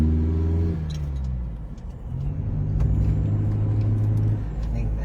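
A turbocharged Isuzu D-Max 1.9 pickup engine runs while driving, a loud steady low rumble with rising and falling engine tones, and someone talks over it.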